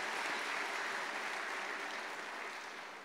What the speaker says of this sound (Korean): 그분들께도 우리 큰 격려의 사랑의 박수 올려드립니다.